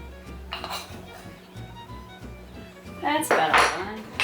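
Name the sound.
mixing with a half teaspoon in a bowl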